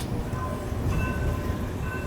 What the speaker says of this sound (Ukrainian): Поїхав трамвай.